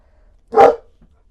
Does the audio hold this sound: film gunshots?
no